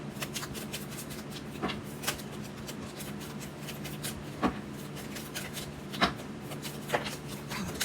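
Tarot cards are shuffled steadily by hand, a continuous papery riffling and sliding with occasional sharper slaps, close up over a faint background hum.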